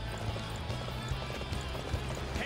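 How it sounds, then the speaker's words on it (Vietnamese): Horse galloping in the video game Dynasty Warriors 9: rapid, steady rhythmic hoofbeats throughout, set within a dense, loud game soundscape. "nó tự động gọi ngựa, nó tự động leo lên ngựa, nó tự động chạy luôn"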